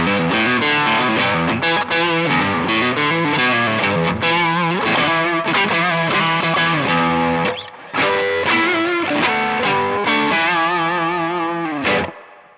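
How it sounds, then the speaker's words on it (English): Electric guitar driven by a BOSS SD-1 overdrive into the clean channel of a TC Electronic Combo Deluxe 65 amp with a touch of reverb, playing a loud, continuous saturated riff. There is a brief dip midway, and the riff ends on a final struck chord. "Punching the SD-1 into the clean channel."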